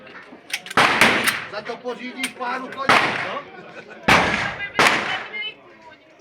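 Several loud, sharp shots from a .50 caliber Desert Eagle pistol crack out at an open shooting-club day, irregularly spaced and followed by echoing tails, with people talking between them.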